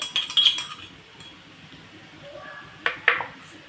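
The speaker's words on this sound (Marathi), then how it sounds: "आणि परत एकदा परतून घ्यायचं आहे" A metal spoon stirs sautéed onion with ginger-garlic paste in a pan for an egg tawa dish, with quiet scraping and a few sharp clinks against the pan.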